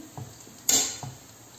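Sfeng beignet dough frying in oil in a pan gives a soft, steady sizzle, broken by a sharp clatter of a utensil against the pan.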